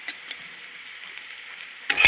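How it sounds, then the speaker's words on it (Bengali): Onions frying lightly in oil with cumin and mustard give a faint, soft sizzle, with a couple of small stirring clicks and a brief louder clatter at the end. "পেঁয়াজটা আমি আর বেশি ভাজবো না অল্প করে ভাজবো"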